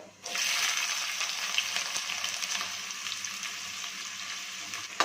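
Finely chopped onions, three medium ones, hit hot oil spiced with cinnamon and cumin for methi chicken, giving a loud, close, steady sizzle that holds evenly from start to finish with no voices.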